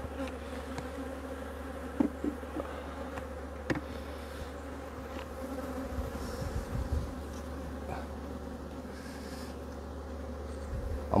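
A dense, continuous drone of many honey bees buzzing close by at an opened hive, steady throughout with occasional small knocks and rustles.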